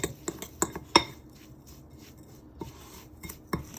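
Breadcrumbs are mixed with melted butter in a dish for Southern mac and cheese. Several quick utensil clinks and scrapes come close together, then softer rubbing and a final tap, with no talking.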